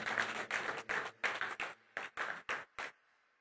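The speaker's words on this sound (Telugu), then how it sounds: "కొట్టండి గట్టిగా చప్పట్లు దేవుని నామం." A church congregation at a Friday worship service in Doha, Qatar, claps together in strong, evenly spaced bursts that slow and stop abruptly into quiet.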